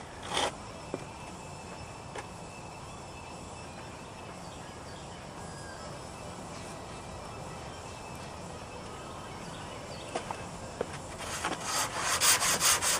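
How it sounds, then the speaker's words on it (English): Steady scratchy rubbing of hand sanding body filler on a 1999 Buick Regal fender, continuous strokes close up, growing louder and busier toward the end. "I'm sanding with the shape of the fender as I'm doing this"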